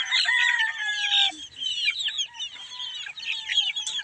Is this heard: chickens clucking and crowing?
yes